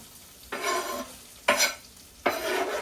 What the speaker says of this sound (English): we're gonna go ahead and put in our butter, our shallots, and a little bit of onion